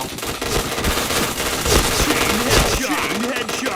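Rapid automatic gunfire in the online shooter game Point Blank, loud bursts of overlapping shots crackling continuously, with a player's voice faintly underneath.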